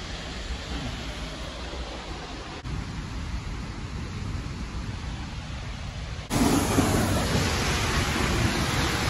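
Twin waterfalls in Prospect roar steadily as a dense, continuous rush of falling water, close and loud throughout, with a sudden jump in level near the end as the listener moves nearer the spray.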